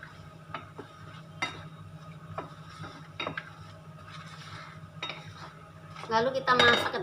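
Apem cake batter for a palm-sugar apem is stirred in a bowl: a sequence of clinking and scraping taps of a utensil against the bowl at an irregular rhythm, ending in a louder burst of clattering.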